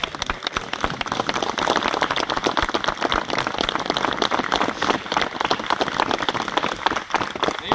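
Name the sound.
congregation round of applause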